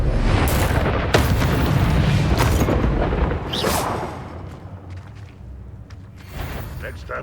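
Confringo blasting spell explosions in the video game Hogwarts Legacy: several loud booming bursts, one after another, over dense game sound, with a voice briefly heard.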